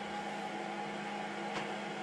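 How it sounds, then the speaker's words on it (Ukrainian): A Snapmaker 2.0 A150 3D printer's cooling fan runs steadily, giving a fairly quiet, constant whirring hum with a faint tonal whine and no talk over it. "Ви чуєте тут досить гучний вентилятор, але не настільки, як я очікував"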